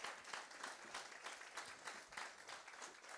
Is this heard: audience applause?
yes